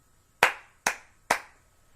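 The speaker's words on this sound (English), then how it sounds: "And then Mrs. clapped her loud hands again" Three loud, sharp hand claps in an even rhythm, close and crisp, each ringing out briefly in a quiet room with no talking.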